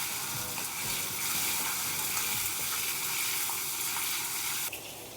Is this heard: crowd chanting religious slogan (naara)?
no